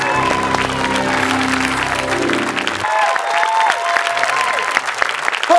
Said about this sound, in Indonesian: Tepuk tangan dong buat Skandal